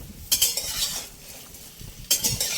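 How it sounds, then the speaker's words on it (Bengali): Raw mango pieces are stirred and fried in hot oil in a pan for a sweet-sour Bengali pickle, with metal utensil scrapes and clinks in two bursts over a soft background sizzle. "এরকম ভাবে নাড়াচাড়া করে ভেজে নেব"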